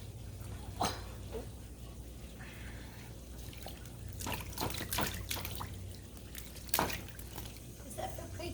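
Water trickles and splashes in uneven bursts, with scattered sloshes and drips against a low background hum, and voices speak faintly in between.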